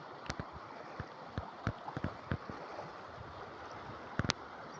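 Water rushes steadily as feet splash through a shallow stream, with several sharp sloshing steps spaced irregularly, the last two close together.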